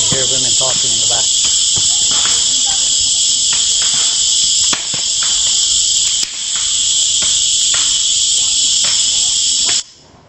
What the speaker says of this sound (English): you hear all the crickets, and this is actual sound in that same forest